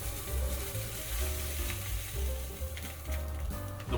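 Water droplets sizzle and crackle in a smoking-hot pan, a dense, continuous frying hiss with small pops throughout, close and fairly loud.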